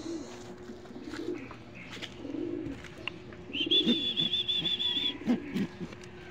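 Pigeons in a coop giving soft low coos in short repeated bursts, fairly faint and close, with a thin high whistle-like tone in the middle and light background shuffling.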